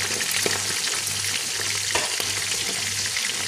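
Steady, close sizzling of chicken browning in a pan, with occasional stirring scrapes and a low hum underneath.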